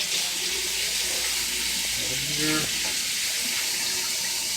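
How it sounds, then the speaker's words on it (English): Running tap water pours and splashes steadily while a cooking pan is rinsed out during preparation of lobster spaghetti Florentine, with a brief clatter partway through. "so we'll rinse this all"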